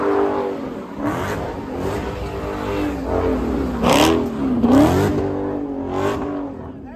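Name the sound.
car revving and spinning at street takeover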